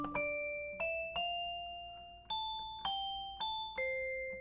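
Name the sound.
bell sound on OP-Z synthesizer lead track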